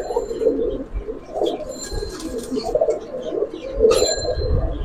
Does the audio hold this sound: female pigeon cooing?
yes